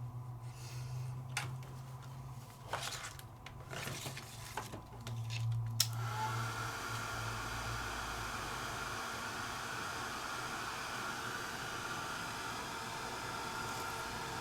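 A heat tool drying glue starts up after some soft handling clatter and then blows a steady, even rushing hiss that holds without change to the end.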